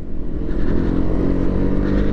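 Vespa GTS 300 Supertech scooter on the move, a continuous low engine drone mixed with heavy wind rumble, close and loud, no talking.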